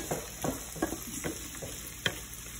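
Onions sauté in a pan for venison meatloaf, a steady sizzle running underneath while a utensil stirs and scrapes in irregular strokes, close up, with no voices.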